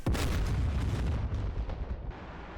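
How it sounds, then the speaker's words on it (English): A bomb exploding on target in the DCS F-4E Phantom flight simulator game, a loud deep booming blast with a sustained rumbling roar that slowly fades over a couple of seconds. "Bomb's going in on target."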